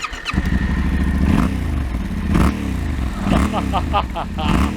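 A Yamaha Tenere 700 motorcycle engine rumbles steadily at idle, with several sharp throttle blips rising and falling, close and loud.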